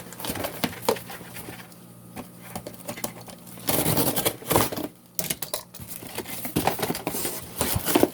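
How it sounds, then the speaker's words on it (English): A box cutter slicing through cardboard box, with bursts of scraping, tearing cuts mixed with light tapping and handling noises, close by, and no speech. "You can also cut some of this off too, like this. Get rid of extra box piece."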